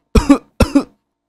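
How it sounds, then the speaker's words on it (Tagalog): Two short, close coughs from a Minecraft character, a quick double burst followed by silence. "Bakit umuubo ka dito?"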